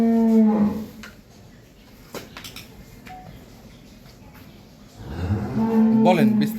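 A dairy cow in its second calving, about four teeth old, moos loudly twice on a dairy farm, one long low call at the start and another near the end with quieter farmyard noise between.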